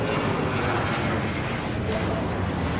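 Airplane taking off in the video game Airport Madness, a steady loud broadband jet roar held throughout, with a brief high chirp near the end and no voices.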